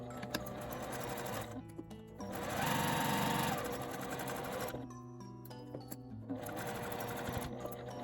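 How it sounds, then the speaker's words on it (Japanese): Sewing machine stitching thick quilted fabric (nubi quilting) for a smartphone shoulder bag, running in steady continuous bursts with short pauses between seams, close and clear with no talk. "返し口を開けて1センチの縫い代で縫います。"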